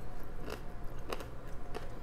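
Several soft, crisp crunches of someone chewing and biting into a whole pickled cucamelon, spaced out over a couple of seconds with no talking.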